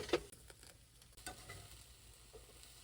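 Rice added to a pan of spinach and garlic sizzles steadily, with a faint wash of frying and a few soft scraping stirs over about three seconds. It is quiet and close, with no talking.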